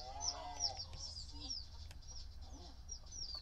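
Chickens and roosters cluck and chirp in The Sims 4 Cottage Living, a busy farmyard of short high calls scattered over low background ambience, moderately quiet.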